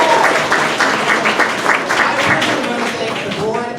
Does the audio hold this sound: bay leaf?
no